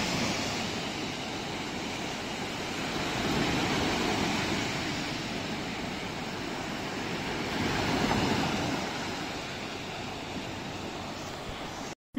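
Steady calm sea surf in Spain rolls and hisses, with two gentle swells of louder breaking waves, wind noise brushing the microphone throughout.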